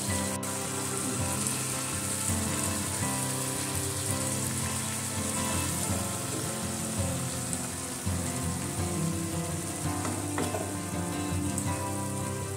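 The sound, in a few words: fish curry broth boiling after fried fish is added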